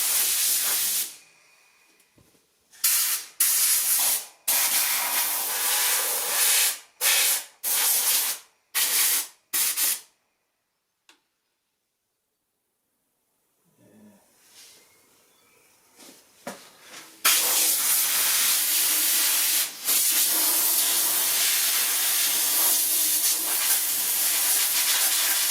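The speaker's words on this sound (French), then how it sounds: "Donc tu passes un coup de soufflette partout, dans les deux sens" A compressed-air blower cleans the condenser of a Candy tumble dryer, loud close hissing blasts in short bursts separated by silences, then a longer continuous spray toward the end.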